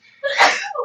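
One sharp, close sneeze bursts out with a short intake and a breathy tail, loud and alone.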